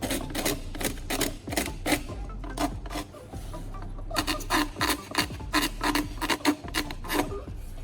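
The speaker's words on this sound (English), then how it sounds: "I'm using a piece of P100 grit sandpaper to start the initial dry sanding process." A broken plastic taillight is dry sanded by hand with coarse P100 grit sandpaper, rapid rough rasping strokes in uneven bursts with short pauses, close and fairly loud.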